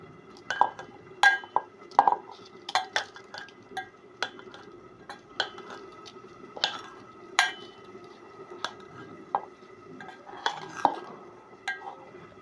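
A spoon stirs soaked sabudana (tapioca pearls) for khichdi in a metal pan, giving irregular sharp clinks and scrapes against the pan, fairly close and clear over a quiet background.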